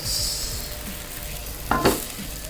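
Millet dosa frying in oil on a hot pan, a steady close sizzle throughout with a brief scraping stir of a spatula near the end, no voices.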